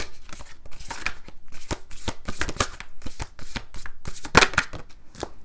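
Tarot cards shuffled by hand, a steady run of crisp riffling and slapping bursts close up, with no voices.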